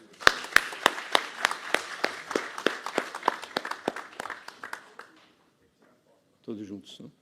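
Audience applause at a solemn ceremony installing the new board of a pharmaceutical sciences academy: crisp, evenly paced claps that keep going for about five seconds, then stop, followed by a short burst of speech.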